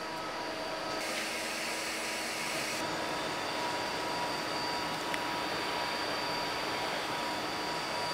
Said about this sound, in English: When they're cut here on a machine, and then they're going into this machine.